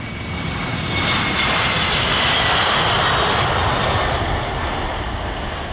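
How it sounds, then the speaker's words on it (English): A Kawasaki C-2 military transport jet flies past at an airshow with a loud, sustained jet roar. The sound swells slightly and stays strong for several seconds, with no talk over it. "There was a very rare performance indeed from Japan, the Kawasaki C2."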